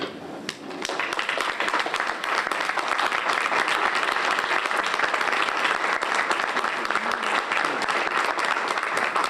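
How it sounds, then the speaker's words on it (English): A banquet audience gives sustained, dense applause for a group of consultants, many hands clapping loudly and continuously at close range for several seconds. "I want you to stand and give these consultants a round of applause"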